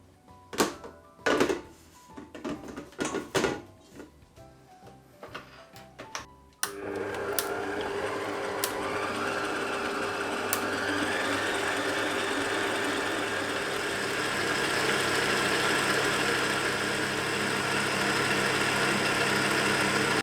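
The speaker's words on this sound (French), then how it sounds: "Et je viens la fouetter à l'aide de mon robot muni du fouet." A stand mixer fitted with a whisk whips cream and sugar into chantilly. A few clunks and knocks come first, then the motor starts and whirs loudly and evenly, without a break, to the end.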